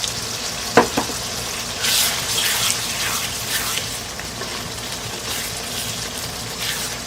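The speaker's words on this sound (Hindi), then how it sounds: "अब इस कीमे को 1 से 2 मिनट और कुक करूँगी।" Minced meat keema, a Pakistani khara masala version, fries in a pan with a steady, close sizzle, broken by a few scraping stirs and bursts of louder crackling.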